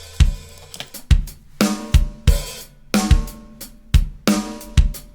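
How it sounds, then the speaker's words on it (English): Programmed drum beat of kick, snare and hi-hats in a steady repeating groove, with an open hi-hat ringing out in places, close and clean with no voices. "And another open hi-hat there."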